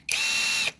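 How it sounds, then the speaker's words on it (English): A cordless drill set to medium speed whirs in one steady, close burst just under a second long, starting and stopping abruptly, in a workshop where an engine is being taken apart. "Okay, on the drill. Yeah, it's also got a speed setting."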